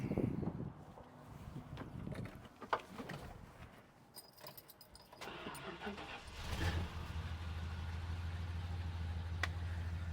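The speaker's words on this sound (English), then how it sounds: "Just showing you cold start." A 1974 Dodge Monaco Bluesmobile replica cold-starts after sitting: faint clicks and handling noises, then the engine cranks and catches around six seconds in, settling into a steady, loud low idle that runs to the end.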